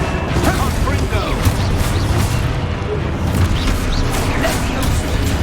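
Spell blasts from the Hogwarts Legacy video game, a fire spell among them, boom and crash continuously over a dense, loud rumbling bed with sharp bursts throughout.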